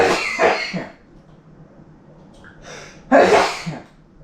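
Two loud, close sneezes a few seconds apart, each sharp burst trailing off, with a quiet pause and a faint small noise between them, heard during kitchen drain unclogging.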